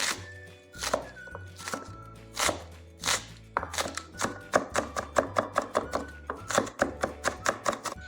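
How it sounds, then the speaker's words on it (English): A knife finely chopping vegetables on a cutting board for a piroshki filling, with irregular thunks that speed into a quick, steady rhythm of close, crisp chops and no talking. "Part we're going to chop much finer."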